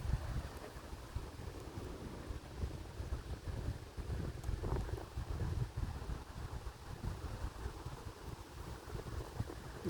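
Steady wind blows outdoors in a shaded spot among trees, rumbling and buffeting close to the microphone at a low level throughout.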